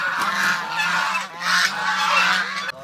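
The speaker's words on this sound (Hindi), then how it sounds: "डक्स माशाल्लाह माशाल्लाह जवान हो गई हैं" Young ducks in a kitchen garden give a loud, close flock of overlapping honking quacks that run continuously for a few seconds with no talking.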